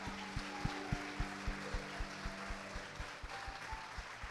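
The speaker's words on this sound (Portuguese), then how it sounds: "Aplauda Jesus mais uma vez." A church congregation claps during a service, praising Jesus. The claps come in a steady rhythm of sharp beats over a faint, sustained hum of musical tones in the background.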